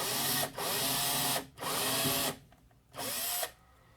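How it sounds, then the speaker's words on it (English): An electric drill bores a hole in three separate bursts of whirring, each about a second long, with short pauses between them, close and clear. "now I'm just going to put a hole where that center dot is."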